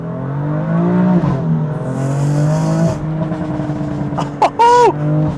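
A BMW M4 Competition accelerates hard in first gear from inside the car with the windows down, its engine note rising loudly and then dropping, followed by brief sharp squeals near the end.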